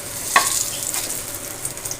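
Garlic frying in a pan for a leafy greens bharta gives a steady, close sizzle. Near the start comes one sharper spatter or scrape, and nobody speaks.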